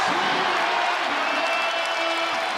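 A college basketball arena crowd roars in a steady, loud wash of cheering and whoops after a dunk, the noise sustained throughout with no single break.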